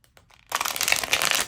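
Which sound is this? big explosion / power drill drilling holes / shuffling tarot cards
shuffling tarot cards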